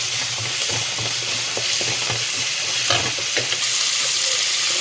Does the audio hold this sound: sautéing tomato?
yes